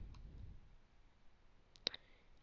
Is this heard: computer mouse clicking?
yes